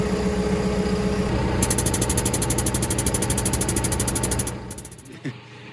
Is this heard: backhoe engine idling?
yes